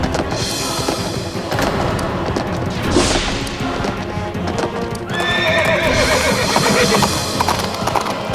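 A horse whinnies loudly in a village courtroom-drama scene, with steady clip-clop hoofbeats and thumps continuing around it.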